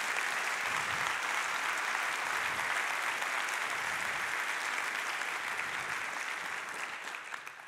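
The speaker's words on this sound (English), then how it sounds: "So a big round of applause for our entire ecosystem." Steady audience applause at a datacenter technology launch event, a fairly distant, even wash of many hands clapping that holds constant and fades slightly at the close.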